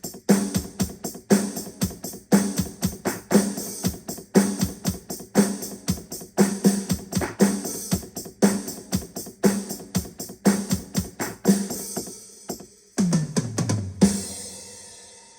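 Yamaha Genos 2 keyboard tambourine voice played in a steady, busy rhythm of bright jingling hits over a driving groove, loud and continuous, ending with a sweeping downward tone.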